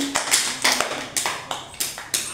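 Children clap their hands in a village preschool classroom, a series of about seven sharp, separate claps in an uneven rhythm, close and fairly loud, with no talking.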